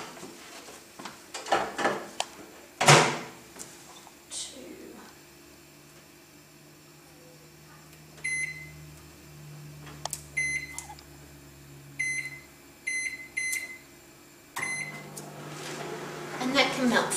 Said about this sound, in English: we're just going to melt it in the microwave.